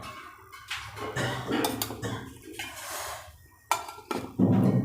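Mixed-greens khichdi is scooped from a cooking pot, with a metal spoon clinking and scraping against the pot in irregular bursts, close by and fairly loud.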